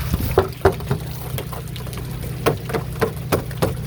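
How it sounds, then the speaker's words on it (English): Water splashes back up out of a clogged roof drain, striking couplings inside the pipe, heard as a steady low churning under a series of sharp splashy bursts, close by with no talking. "It's hitting the couplings in there and splashing back up."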